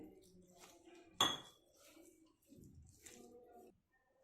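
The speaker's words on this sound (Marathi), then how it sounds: "याला मी मिक्स करून घेतलं आहे" Poha flakes being mixed with water in a bowl give soft, quiet squelches and light scraping, broken once by a sharp clink of utensil against the bowl.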